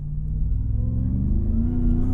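A 2020 RAM 1500 TRX truck engine revs loudly outdoors in open nature, a deep close rumble that rises in pitch as it accelerates, with no voices.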